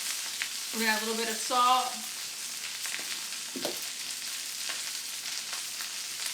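Kale frying in oil in a pan gives a steady, faint crackling sizzle all the way through, with a voice speaking briefly over it near the start.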